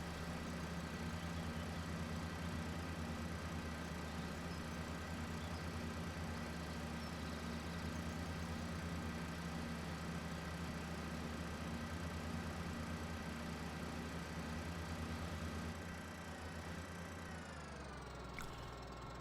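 Tractor engine in the video game Farming Simulator 2013, a steady low mechanical drone idling and humming continuously, then tapering off near the end, with no talking.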